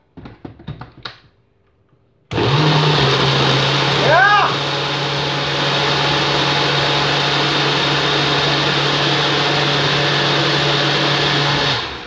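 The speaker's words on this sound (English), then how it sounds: "I need to blend it" A blender with peanut butter, coconut, Kit Kat and ice cubes starts abruptly and runs loud and steady with a constant whirring drone, after brief talk; a short excited shout rises over the motor.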